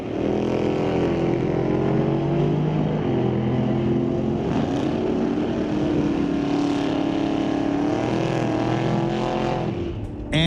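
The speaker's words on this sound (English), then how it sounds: "lined up next to Rob Monroe in the 31 Ford Model A" Drag racing at a raceway, a 1965 Chevelle and a 1931 Ford Model A, loud sustained engine roar holding steady close by for about ten seconds, cutting off abruptly at the end.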